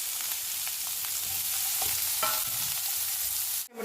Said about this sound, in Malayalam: ഇത് മൂന്നും കൂടി ഇട്ട് കൊടുക്കുക നമുക്ക് നന്നായി ഒന്ന് വഴറ്റിയെടുക്കാം